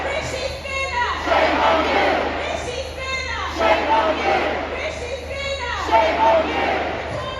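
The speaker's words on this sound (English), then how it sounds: "there are a lot of people here. Huge crowd." A huge crowd at a Palestine protest in London chants in rhythmic, repeated waves of shouting, loud and close, with a steady low hum underneath and nearby voices mixed in.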